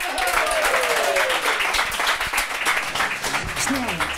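A studio audience at a table talk show applauds its first guest with sustained, loud clapping, while a host speaks Dutch over the applause.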